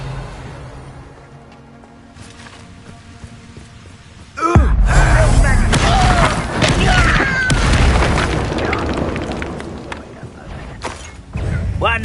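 In the wizarding game Hogwarts Legacy, a Confringo fire spell erupts in a sudden loud booming explosion after a quiet stretch, followed by sustained crackling blasts and rumbling, with vocal gasps and grunts mixed in.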